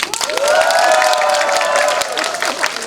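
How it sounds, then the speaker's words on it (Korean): Applause from an audience at a Korean talk-show event, a short burst of clapping mixed with raised, cheering voices, close and fairly loud throughout. "박수를 한번 들어보고"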